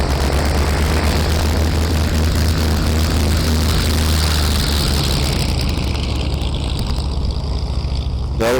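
Small airplane taxiing at a fly-in airfield, a loud steady engine and propeller drone close by that thins out slightly toward the end.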